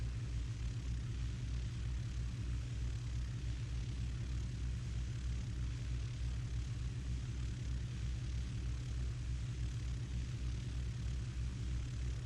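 Steady low engine drone of a Grumman AA-5B Tiger light piston aircraft in the X-Plane flight simulator, setting flaps on a night landing approach; a continuous, even propeller rumble with no talk.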